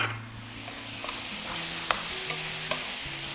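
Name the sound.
blanched vegetables stir-frying in pan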